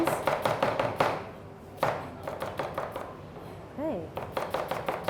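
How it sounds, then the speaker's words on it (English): Onions being chopped with a knife on a vegetable cutting board, quick rhythmic close taps in several bursts with short pauses, one brief spoken word between the chops. "I have to cut some onions."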